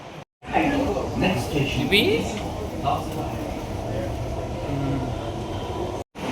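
Steady rumble of a Namma Metro train in motion in Bengaluru with a broad hiss, people talking over it throughout.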